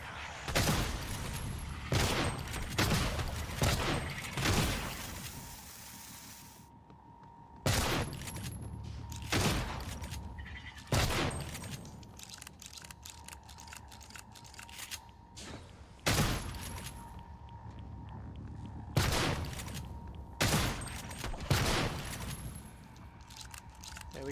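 Bursts of player weapon fire in the Prey video game, several loud volleys separated by short pauses, with mechanical clicks and clatter between shots and no talking.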